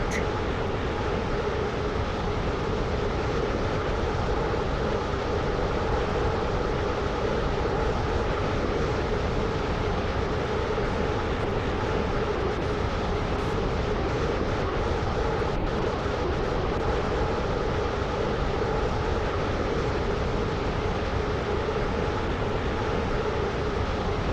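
Steady rumble of a Stepford Connect train in the game Stepford County Railway, running toward Leighton City, a continuous broadband drone with no breaks and no talking.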